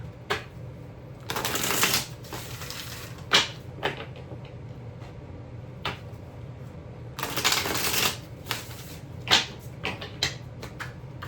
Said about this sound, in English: giving this a good shuffle.